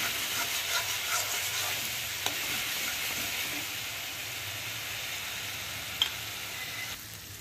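Ginger garlic paste frying in a pan over a full gas flame, a steady loud sizzle with a couple of sharp pops, no voices.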